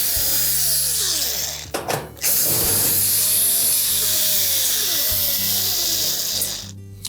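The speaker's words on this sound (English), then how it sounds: "we just need to remove the screws that secure this upper panel in place" A power driver backs out quarter-inch hex head screws from the upper panel of a GE range, its motor whining steadily up close, broken by a brief pause and a few clunks.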